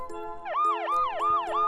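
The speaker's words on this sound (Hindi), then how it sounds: "ये साउंड एक एम्बुलेंस का साउंड है।" An ambulance siren wails in a steady, rapidly repeating rising-and-falling cycle, loud and close, with no voices.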